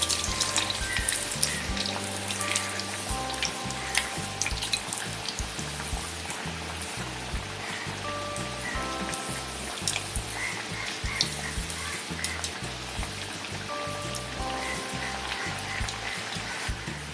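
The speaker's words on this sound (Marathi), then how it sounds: "हे अशा पद्धतीत तळायचे आहेत, एकदम मंद आचेवरतीच." Gharge, a traditional Konkani sweet, deep-frying in oil over a very low flame, giving a steady soft sizzle and bubbling throughout with a background music track and no talk.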